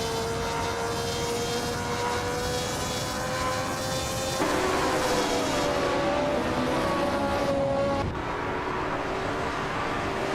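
Engines of AI-driven race cars, including a classic 1965 Ferrari 1512, roar together in a video game race at Maple Valley Reverse, a sustained loud droning whine that shifts pitch as cars pass.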